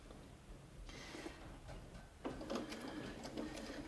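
A sewing machine stitches fabric along a quilting template, a faint steady run that picks up into a slightly louder, busier stretch of stitching partway through, with no one talking.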